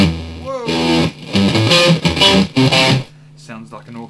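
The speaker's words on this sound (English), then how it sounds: "let's try some bit crushing. It gets really loud, and this is 15-bit." A Boss BR-8 recorder applies bit-crushing distortion at decreasing bit depth. The result is loud, harsh, gritty tones in choppy bursts, followed by a quieter, thinner tail.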